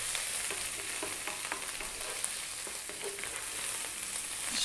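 Carrot rice stir-fries on high heat, a steady close sizzle and crackle with light scraping and stirring strokes throughout, and no voices.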